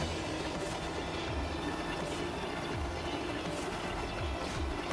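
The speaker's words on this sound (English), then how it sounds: "Here's that train." A train rumbles past in the racing game Need for Speed: The Run, a steady, dense rolling drone with faint rhythmic clatter that holds at an even level throughout, no voices over it.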